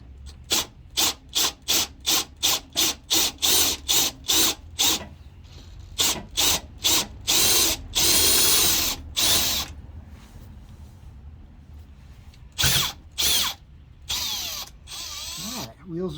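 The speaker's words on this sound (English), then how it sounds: "Put a fresh battery in the driver here." Cordless power driver on a fresh battery, used on an '04 AWD Astro van up on jack stands, firing in a rapid run of short whirring bursts and then longer loud spins and ratcheting, close up.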